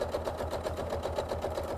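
A sewing machine quilts a single quilt-as-you-go block, running close at a fast, even rhythm of rapid repeating stitch pulses.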